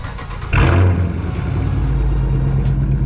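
A Cadillac CTS-V engine on a warm start cranks and fires with a sudden loud burst, then settles into a steady, deep, rumbling idle close by.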